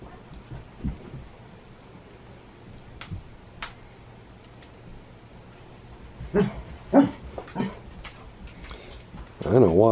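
A pet dog barks indoors at an older relative, with several sharp, fairly close barks bunched near the end over a quiet room background, and people talking at moments.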